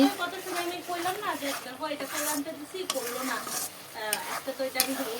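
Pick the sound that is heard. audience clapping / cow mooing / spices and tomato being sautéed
spices and tomato being sautéed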